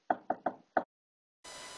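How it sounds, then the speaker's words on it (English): Four crisp knocks on a door, three quick and one after a short pause, close and distinct, followed by a soft hiss of background noise. "But then, there was another knock at the door."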